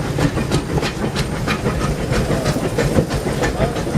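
The Disneyland Railroad train rolls along with continuous rumble and rhythmic clickety-clack of wheels over rail joints, close and loud, with a faint hiss throughout.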